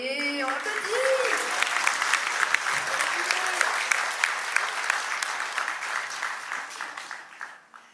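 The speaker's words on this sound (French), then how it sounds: "Et on applaudit." Audience applause at a French geek-themed show, a dense sustained burst of many hands clapping that fills most of the stretch, with a voice speaking early on and the clapping thinning near the end.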